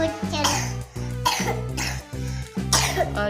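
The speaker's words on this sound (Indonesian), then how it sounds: "Oh iya lagi batuk ya." A child pretending to be sick coughs repeatedly during a doctor play-pretend game, several short close coughs in quick succession over light background sounds.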